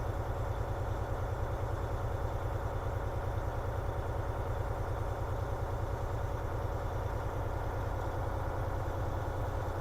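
A truck engine idles while its air brake compressor builds pressure during an air brake inspection: a steady, even chugging drone with fast rhythmic pulsing, unbroken for the whole stretch and with no talking.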